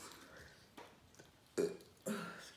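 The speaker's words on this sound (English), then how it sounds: "I always usually burp when I'm eating or something" A person burps while eating a garlicky seafood boil, two short quiet belches near the end after faint mouth and eating noises, close to the microphone.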